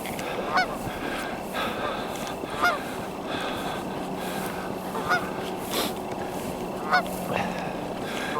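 Geese honk in several short, sharp bursts spaced a couple of seconds apart, moderately near, over a steady outdoor background hum with no talking.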